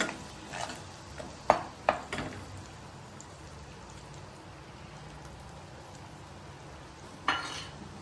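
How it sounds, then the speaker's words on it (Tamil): A wet paste of ground onion, tomato, ginger and garlic frying in a pan for a yam chops dish, a soft continuous sizzle with a few sharp clinks and scrapes from stirring, fairly quiet overall. "இந்த பச்சை வாசனை போகிற வரைக்கும் நல்லா கிண்டி விடுங்க"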